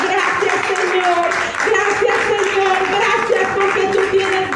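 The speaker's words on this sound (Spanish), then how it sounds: "denle un fuerte aplauso a nuestro Dios" A church congregation clapping for God, a broad spread of hands applauding together beneath a loud voice talking over the top throughout.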